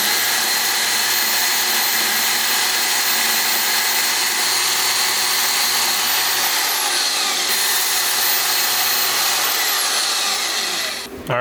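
A power tool cutting small aluminum tabs in a garage, a loud continuous high-pitched whine and grind held close for about ten seconds before stopping abruptly.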